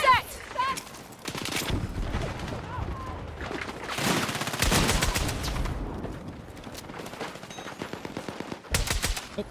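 Bursts of video game gunfire, loud sharp shots and rattling volleys spread across the stretch, some clustered and some isolated, with a voice talking in between.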